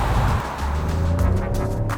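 Steady low three-cylinder thrum from a Peugeot 2008's 1.2-litre turbo petrol engine, heard from inside the cabin as a continuous droning hum with faint harmonic tones, no talk over it.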